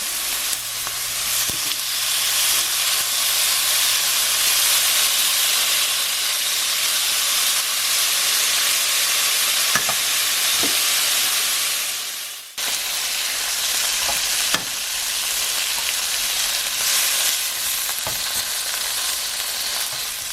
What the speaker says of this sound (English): Let it cook on each side for 3 minutes. No touching, no flipping constantly. Let it sear.